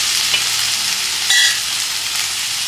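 Vegetables with brinjal sauté in a pan for a chickpea curry, giving a close, continuous bright sizzle with a short louder scrape of stirring midway.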